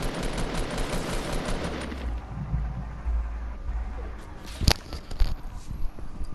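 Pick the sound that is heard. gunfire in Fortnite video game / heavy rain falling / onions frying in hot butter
gunfire in Fortnite video game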